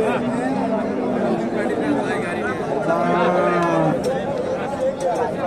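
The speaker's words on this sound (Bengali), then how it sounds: "দেশি গাভী।" A desi cow lows at a busy rural cattle market, a drawn-out moo rising over steady crowd chatter and nearby voices throughout.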